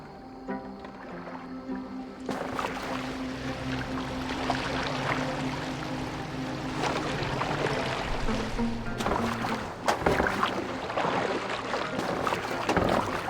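A boat moves on water in the video game Assassin's Creed Valhalla, with a continuous wash of water and wind that swells after a quieter opening and carries steadily throughout.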